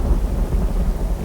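Rain and thunder in the video game Uru Live, a brief low rumbling roll of thunder blended with steady rainfall noise, fairly loud and with no talk.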